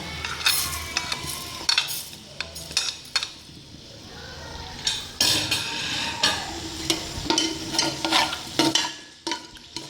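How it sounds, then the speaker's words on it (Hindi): Cinnamon, cloves, cardamom and cumin fry in hot oil in a pot for aloo gosht, with a soft sizzle under repeated metal stirring scrapes and clinks of a spoon against the pan. "इसमें हम पहले मसाला डालेंगे फ्राई होने के लिए।"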